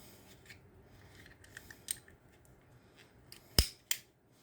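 A Cold Steel Click-N-Cut folding knife handled while its blade is changed, soft scraping and faint fiddling giving way to two sharp close clicks as parts snap off and into place, no talking.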